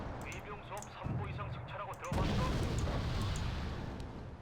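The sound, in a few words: artillery fire in the video game Wargame: Red Dragon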